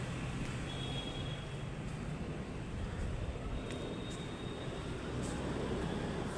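An airplane passing overhead above a city view gives a broad, steady, distant engine roar that fills the whole stretch evenly, with no talk.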